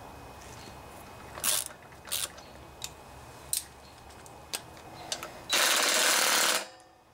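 Bolts being snugged down by hand on a Briggs and Stratton OHV Intek engine, heard as scattered, quiet ratchet clicks at irregular intervals and then a longer, louder continuous ratcheting run before it stops.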